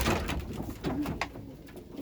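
Racing pigeons cooing softly inside a loft, a few low murmuring coos close by over a muffled room background, with a brief knock or thump partway through.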